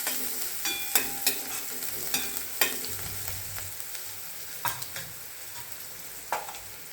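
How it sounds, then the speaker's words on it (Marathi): Onion frying in a pan until lightly browned for a black-eyed pea usal, with a steady low sizzle and sharp, repeated spatula scrapes and taps as it is stirred, close and fairly quiet, with no talk. "थोडासा तांबूस होईपर्यंत कांदा भाजून घ्यायचा आहे"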